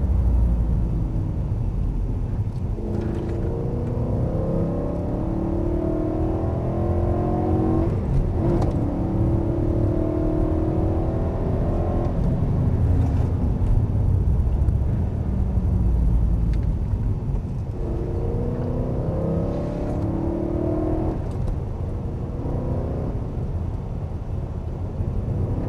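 A BMW M3 accelerates at full throttle around the Michelin test track near Salon-de-Provence, a loud in-car engine drone that rises repeatedly in pitch through the gears over steady road rumble and wind noise.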